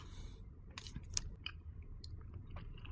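Close, moist chewing of a soft Thai steamed rice-flour snack with small holes, dipped in a sweet sauce, with a few crisp clicks and bites over steady low room noise.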